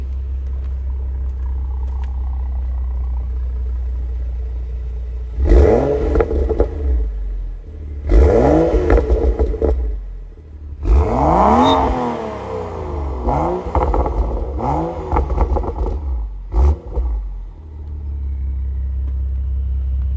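A warm BMW M135i xDrive starts up in comfort mode. The engine catches and then swells in several strong revs with pauses between them before settling back to a steady, close idle rumble.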